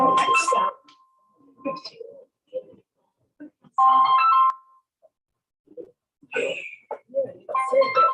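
A mobile phone ringtone sounds during a town council meeting in Eatonville, in short melodic bursts that repeat with gaps between them. Scattered voices and room noise fill the pauses.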